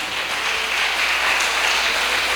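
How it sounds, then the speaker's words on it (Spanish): Loud, dense applause fills a church as the congregation claps for God, a steady wash of hand claps with no voices over it. "Le podemos dar un fuerte aplauso a nuestro Dios"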